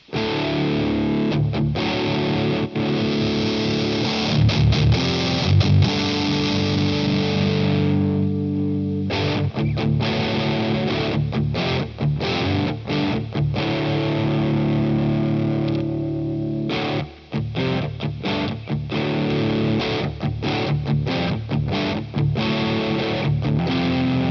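An electric guitar plays continuously through a DigiTech Death Metal distortion pedal into a Boss Katana amp, with thick sustained chords and brief choppy breaks, loud and with no voices.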